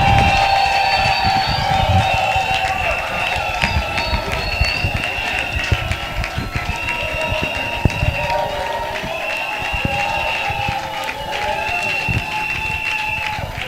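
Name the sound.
audience applauding and cheering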